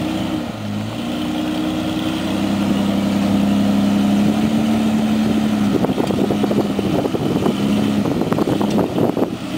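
Toyota FJ80 off-road truck on a 6-inch lift, its engine idling close by with a steady low rumble, a few louder revving bursts and rattling knocks in the later seconds, on an off-road trail in Moab, Utah.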